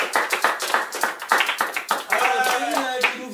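Small game-show audience clapping in a steady rhythmic beat, quick regular claps that give way to looser applause with voices mixed in.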